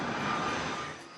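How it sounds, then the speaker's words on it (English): Loud, close jet airliner roar at St Martin airport, a broad steady rush that fades slightly toward the end, with no voices over it. "when the planes are taking off, they fire up a mean enough jet wash to make standing in one place difficult"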